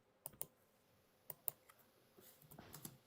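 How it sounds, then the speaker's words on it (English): Keyboard typing comes through faintly as scattered sharp clicks and key taps in small irregular bursts, quiet and distant with no voices over them. "Somebody's typing their ass off."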